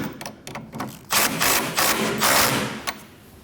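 An 18mm socket wrench snugs a sway bar link nut on a 2011-2016 Kia Optima rear suspension, giving fast bursts of ratcheting clicks between quieter pauses, close and fairly loud.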